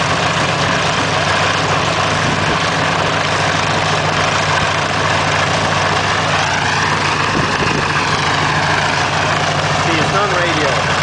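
A BA Swallow vintage light aircraft engine runs steadily and loudly at an airfield in Taghmon, a constant droning rumble held throughout, with voices mixed in.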